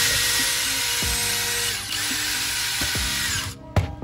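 A power drill with a 3/16 bit bores into 3D-printed airsoft parts, a high whining buzz broken by a few short thumps and bursts, close and loud, with no talk.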